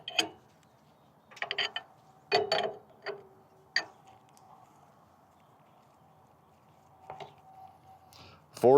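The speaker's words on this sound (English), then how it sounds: "we're going to take a 27mm wrench to get this loosened" A 27mm wrench turns to loosen the unloader on a pressure washer, giving a few sharp metallic clicks and clanks in separate bursts with quiet gaps between them, close up.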